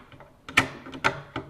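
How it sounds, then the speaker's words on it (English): A rifle bolt slid into the action while fitting an Austin & Halleck 209 ignition kit, a few close metallic clicks and scrapes over about a second and a half, with two sharper clacks standing out. "Now we're going to take our bolt, put it in."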